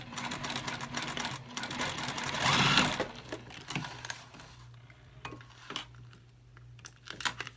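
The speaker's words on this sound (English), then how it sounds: "we're just going to stitch across these two short edges here" A sewing machine stitches across the two short edges of a vertical toiletry pouch, a steady mechanical whir running in bursts with brief pauses and small clicks between runs, close and moderately loud.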